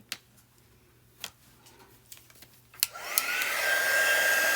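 A hair dryer switches on and runs steadily and loudly, blowing air to dry a framed floral paper craft project, after a few quiet clicks and taps.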